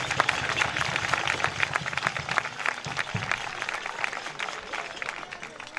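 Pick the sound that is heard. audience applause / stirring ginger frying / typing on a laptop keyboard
audience applause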